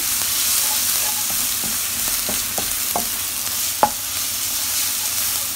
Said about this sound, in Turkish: Rendelemiş olduğum havucu ve kavurmaya devam ediyorum. Şöyle bir karıştırıyorum.